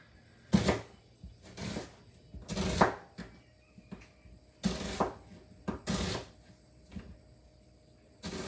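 A knife strikes a cutting board in a series of sharp, separate chops through vegetables for chicken fajitas, with short pauses between them, close by.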